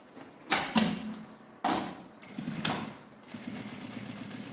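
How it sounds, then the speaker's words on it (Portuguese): A sewing machine stitches a seam around the edge of a fabric toiletry case in short bursts of whirring, with a few quick runs and brief stops, close and fairly quiet. "E vamos passar uma costura na beiradinha, em toda a volta."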